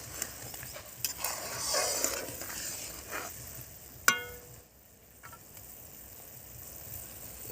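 Shol fish curry gravy simmers in a pan with a quiet bubbling sizzle. A single sharp metallic clink of a utensil against the pan cuts through midway, then the faint simmer continues alone.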